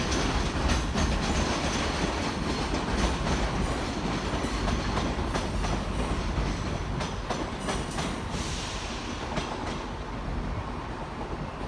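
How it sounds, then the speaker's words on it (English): A ScotRail Class 334 electric train from Glasgow Queen Street rolls into Edinburgh Waverley. A loud, steady rumble of wheels carries a rhythmic clickety-clack over the rail joints and fills the whole stretch. "we have 334031 coming in from Glasgow Queen Street"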